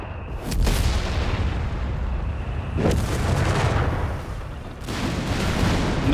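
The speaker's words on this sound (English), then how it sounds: "Anti-tank half takes both shots, miss your Sturmer by a pretty wide margin" An anti-tank gun fires shots in the Company of Heroes 3 video game, with three heavy booming blasts spaced a couple of seconds apart, each ringing out over a dense rumbling battlefield din.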